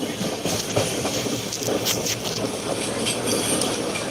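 A train rumbles past steadily with a continuous rolling clatter and hiss, close and fairly loud throughout.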